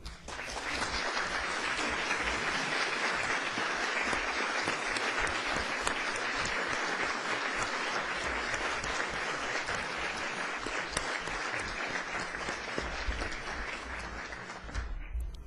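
Sustained applause from a large audience at a formal academic induction ceremony in Mexico, a dense, steady wash of many hands clapping that holds for the whole stretch before tapering slightly at the end.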